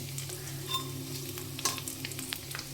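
Fish sizzling and crackling steadily as it fries crisp in hot oil in a pan, a continuous close sizzle with occasional small pops and spatters, no talking.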